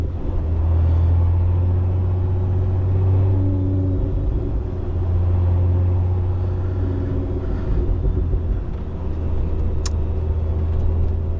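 A 2024 Lotus Emira First Edition with a V6 and manual gearbox drives on, its engine a steady near rumble that drops and rises as gears change, one noticeable dip near the middle.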